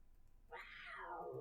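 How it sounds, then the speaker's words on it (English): A cat enemy in the Ravenloft: The Stone Prophet video game lets out a single drawn-out meow, faint and clear against a quiet background. "That's a cat."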